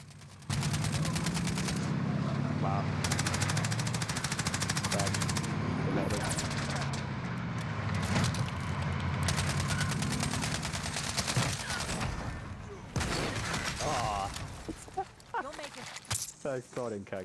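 SCAR-17 rifle fire in Call of Duty Warzone rattles in rapid bursts and single shots, with breaks and scattered game noises between them.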